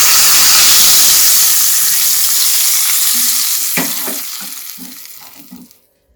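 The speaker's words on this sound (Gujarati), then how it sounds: "હવે આ વઘારને આપણે દહીં ઉપર એડ કરી દઈશું।" Hot oil tempering with chili is poured onto yogurt for a raita, giving a loud hissing sizzle that starts strong, breaks into a few crackles and fades to silence.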